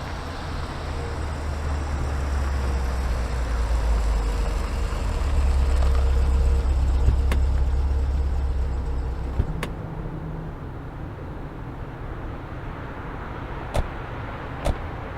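A car cabin hums with steady low engine and road rumble while driving through traffic near Bagru, the drone swelling midway then easing, with a few sharp clicks and knocks near the end.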